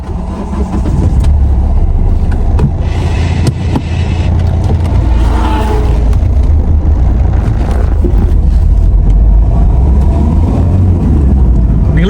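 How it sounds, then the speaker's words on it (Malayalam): A Hyundai i20 1.4 CRDi diesel hatchback drives along with a loud, close engine drone that rises under acceleration, with a faint turbo whistle running through it. "ആ ടർബോന്റെ ഒരു വിസ്ലിംഗ് സൗണ്ട്"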